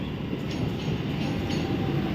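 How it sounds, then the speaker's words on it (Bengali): A steady low rumble of a train rolling into a station, with faint rail clatter and no voices, continuous throughout. "অলরেডি দেখো ট্রেন ঢুকছে"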